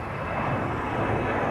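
A KLM Embraer 190 jet departs Amsterdam Schiphol Airport, its engines giving a loud, steady, rumbling roar that holds constant across the short moment with no voices.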